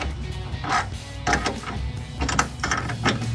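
A wrench tightens a mounting bolt for a low-profile tri-fold hard tonneau cover on a Chevrolet Canyon pickup, making several short ratcheting clicks in spaced bursts, close, over a steady background hum.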